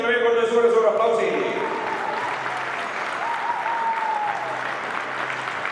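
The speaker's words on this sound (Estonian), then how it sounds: "teeme veel kord suure aplausi" Audience in a sports centre applauding the silver medalists at a floorball final award ceremony, a dense, sustained round of clapping that continues throughout, with an announcer's voice over the first part.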